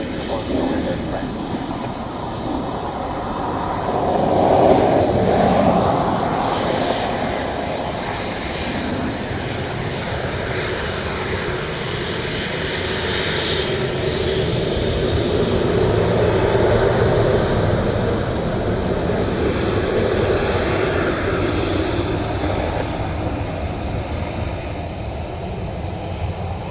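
A Ryanair airliner at Dublin Airport produces a loud, steady engine roar that swells and holds for nearly half a minute, with a broad rumbling wash throughout.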